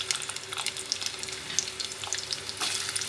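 Onions frying in a pan for a ridge gourd and dried prawn curry give off a steady close sizzle with scattered crackles and light stirring scrapes, and no one speaks.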